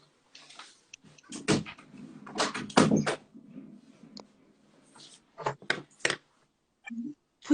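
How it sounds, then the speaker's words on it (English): A door being closed indoors, a series of close knocks, bumps and clatters in clustered bursts with quiet gaps between them. "Just close the door."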